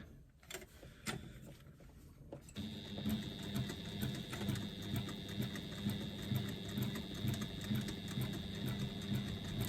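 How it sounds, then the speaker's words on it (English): A sewing machine stitches a lining fabric seam at a quarter-inch allowance. After a few quiet handling clicks, it starts into a steady, close mechanical whirr with a fast, even rhythm that continues to the end. "we're just going to stitch that at a 1/4 inch seam allowance."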